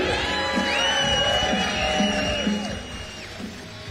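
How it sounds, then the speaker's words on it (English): A crowd at the STIHL Timbersports North American Trophy 2024 competition cheers and whoops loudly, with high shouts ringing over a dense roar that eases slightly toward the end. "Big round of applause, Matt Cogar"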